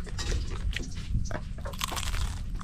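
Someone bites into and chews a crunchy vegetable in a rural home. Close, steady crunching continues throughout with no talking.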